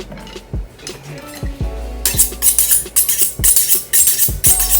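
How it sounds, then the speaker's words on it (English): A knife chops vegetables for sweet and sour chicken on a cutting board, with sharp irregular thuds and clicks close by, several in quick bursts, mixed with light clinks of kitchenware. "start chopping my vegetables"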